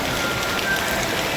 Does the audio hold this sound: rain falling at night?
yes